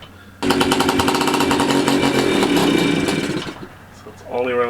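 A free scooter's small engine, running only on starter fluid, bursts into a loud, rough, sputtering roar that surges unevenly for about three seconds, then dies away; a brief voice follows at the end.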